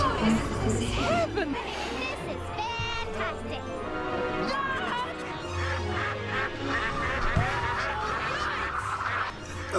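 Cartoon ducks quack repeatedly from a played animated clip, mixed with chatter and lively voices, while people talk over it throughout.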